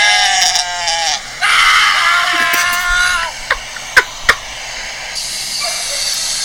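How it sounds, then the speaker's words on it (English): A goat bleats loudly in several long, wavering cries close by, followed by a few sharp clicks and quieter background noise. "That's a goat"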